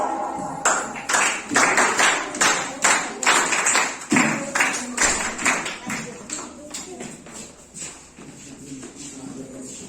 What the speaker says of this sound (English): At least crowd clapping for her